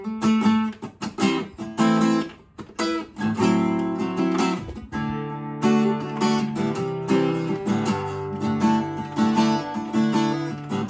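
Melodic music heard through the natural reverb of a larger room, with smoother, more drawn-out reflections; steady moderate playing continues throughout with a brief dip midway and no voices.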